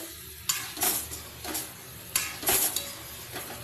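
Papaya and spices sautéing in a pan sizzle softly while a utensil stirs and scrapes in a few louder bursts, close by, with no voices.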